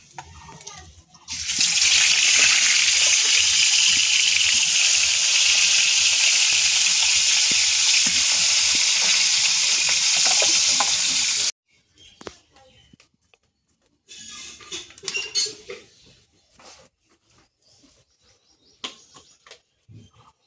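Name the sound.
fish frying in a pan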